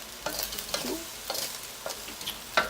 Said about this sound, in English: take that wooden fork and stir the shrimp